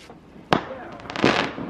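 Garden fireworks on bonfire night, one sharp bang followed by a crackling, fizzing burst of louder pops, moderately distant outdoors.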